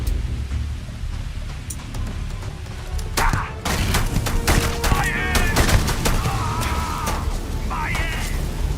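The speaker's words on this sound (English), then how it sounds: "People shooting at me?" Gunfire in the Starfield video game crackles in scattered bursts and sharp single shots amid a noisy firefight, fairly loud, with a voice talking over it.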